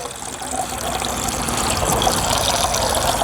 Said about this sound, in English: We put water in.